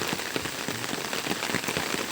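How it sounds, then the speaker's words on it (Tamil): Steady rain falls on a street in Dharmapuri at midday, a dense, even hiss of drops striking the surface with no voices. "இப்போ மத்தியானமாக இப்போ தான் மழை ஆரம்பிச்சிருக்கு"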